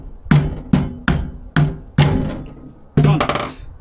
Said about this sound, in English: Get your mallet on the soft side.